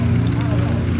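A Mudry CAP 20 aerobatic propeller airplane drones steadily overhead at an air show, a loud, sustained low engine hum with a constant tone.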